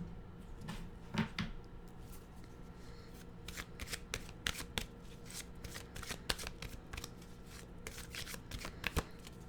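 A deck of animal oracle cards is shuffled close up in quick, repeated riffling bursts, fairly quiet, with no talk.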